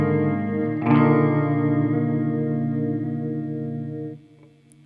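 An electric guitar rings through a modulation effects pedal with its separation setting removed, a single sustained chord with a wavering chorus-like shimmer that holds steady for several seconds before cutting off abruptly.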